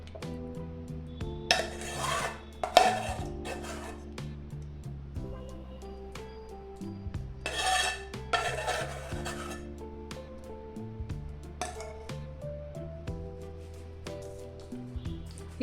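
Cooked lentils being stirred into chicken haleem in a pot, with irregular scraping and clanking of a spoon against the metal, two louder bursts of rubbing over faint background music.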